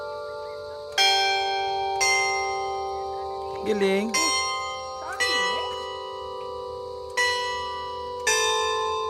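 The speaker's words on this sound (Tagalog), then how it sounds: "So guys, may sounds yung bell." Church-style bell striking at one o'clock in an orchard setting, several loud ringing strikes about a second apart with long sustained tones, while a person speaks briefly between strikes.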